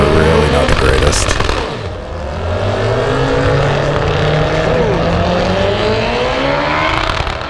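Tuner cars at a car show, including Mitsubishi Evos, Nissan GT-Rs and Mazda RX-7s, rev loudly and continuously with rising and falling engine notes, amid crowd noise and nearby voices.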